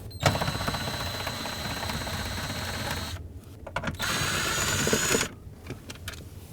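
Power-driver whirring while 7mm bolts are removed from an interior panel near the driver's footwell of a 2007-2009 Saturn Aura: a long, close buzzing run, a brief pause with clicks, then another sustained burst before it stops.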